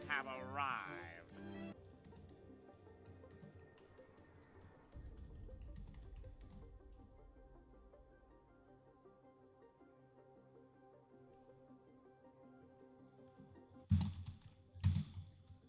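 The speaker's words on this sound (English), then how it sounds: "I just realized I was typing in all caps in a chat." Someone types a chat message on a computer keyboard, producing faint, sparse key taps in a quiet room, followed near the end by a couple of louder thumps.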